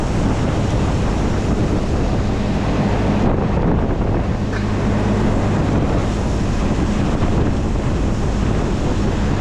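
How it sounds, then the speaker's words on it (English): Strong outdoor wind buffets the microphone in a loud, constant roar with no letup, drowning out any other sound. "Boy, that wind is something else, I tell you what."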